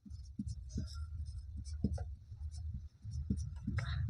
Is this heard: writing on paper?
yes